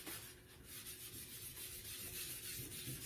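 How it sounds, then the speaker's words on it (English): Wax being rubbed off a chalk-painted surface by hand, a soft continuous scrubbing and rubbing close up, faint and steady, with no talk. "I'm going to come back and now rub off the wax"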